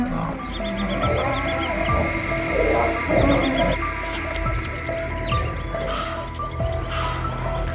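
Lions fighting in the wild, an old injured male attacked by other lions, with deep rough roars and snarls rising and falling in bursts over a few seconds, fairly close and loud, with some background bird chirps.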